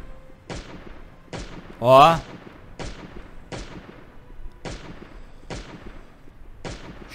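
Evenly spaced gunshots ring out in the video game Last Day on Earth, about eight sharp reports in steady rhythm, with a brief voiced exclamation in between.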